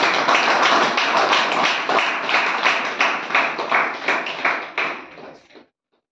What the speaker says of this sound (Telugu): గట్టిగా చప్పట్లు కొడతారా?